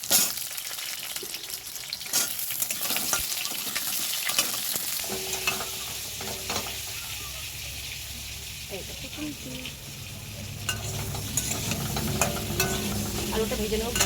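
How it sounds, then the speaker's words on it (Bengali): Potatoes for a meat curry fry in oil in a pan, with a steady close sizzle, stirring scrapes and a few clinks throughout, and a voice speaking at times. "এই যে মাংসর আলু তো ভাজা শুরু হয়ে গেছে"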